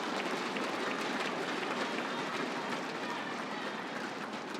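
Steady applause from a large arena crowd at a women's singles table tennis World Cup final, continuous and dense throughout, fairly distant and even in level with no talk over it.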